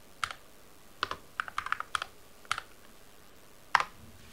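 Keys on an Attack Shark X68 HE keyboard are typed in a loose, irregular run of crisp clicks, with a brief pause before one final louder keystroke, close up and without talk.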